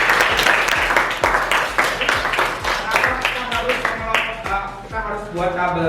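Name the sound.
classroom applause for a student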